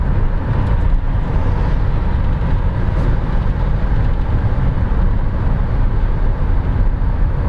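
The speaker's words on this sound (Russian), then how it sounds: "машина шумная, и когда ты едешь в городе, ты постоянно чувствуешь, как вот она едет вот туда, под полом, все там вращается" A JAC S7 crossover's cabin carries steady road and drivetrain noise while driving in the city, a constant loud broadband hum and rumble with no break.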